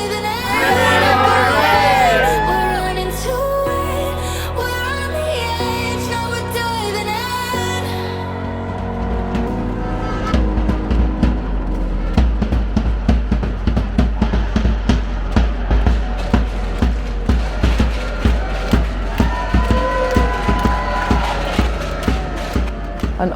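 A stadium crowd at St Mary's roars as the team walks out. Music plays first, then gives way to a dense, loud wash of crowd noise with rhythmic clapping pulses running through it.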